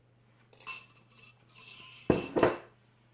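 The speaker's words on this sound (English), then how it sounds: "I'm just going to give those a quick little beat on those eggs to break them up" A utensil beats three large eggs in a bowl for low-carb Mexican cornbread, giving two quick bursts of clinking strokes, then two louder, sharper clatters close by.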